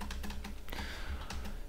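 Fast keystrokes on a computer keyboard while Python code is entered, a brief run of close clicks with one sharper key press midway.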